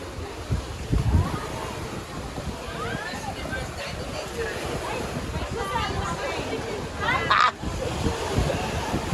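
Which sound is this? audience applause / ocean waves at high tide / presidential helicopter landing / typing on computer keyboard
ocean waves at high tide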